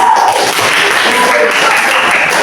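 A classroom of students gives a brief burst of clapping during a teaching practice lesson, the applause filling the whole short moment at steady volume.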